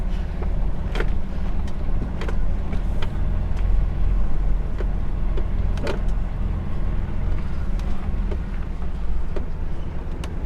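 A car towing a step frame trailer rolls along with a steady low engine drone and road rumble, punctuated by occasional small knocks and rattles.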